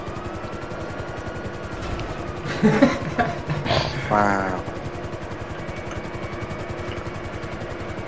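A helicopter in GTA 5 whirs steadily in the background while a player's voice exclaims and chatter breaks in over the rotor hum midway.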